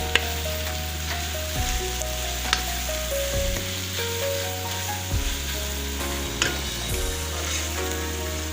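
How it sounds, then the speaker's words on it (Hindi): Radish pods frying in a pan for an aloo moongre dish: a steady, continuous sizzle that stays at an even level throughout, with no talking over it. "मोंगरे हमारे फ्राई हो रहे हैं"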